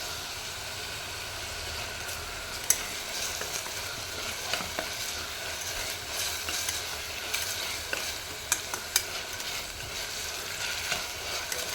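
Two spoons of ginger paste frying in oil for a mutton and raw mango curry, a steady bright sizzle with scattered crackles and a few sharp pops, close and continuous with no talk.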